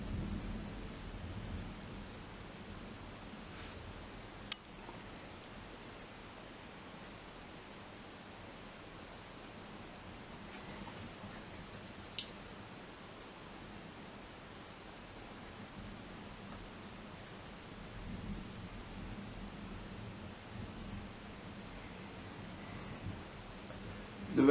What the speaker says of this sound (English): I think that was a positive strike, given on how low those vibrations were.